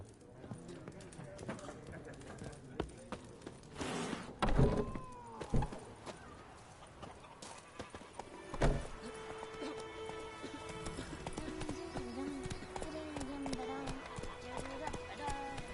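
Horse hooves clip-clop at a gallop in The Witcher 3, heard up close as rhythmic beats with occasional louder thumps, under game music and ambient sound with a brief whinny.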